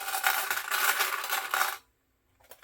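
A metal sewing clip snapped onto fabric while making a clutch, a bright rattling metallic clatter lasting under two seconds, then quiet with a faint soft touch at the end.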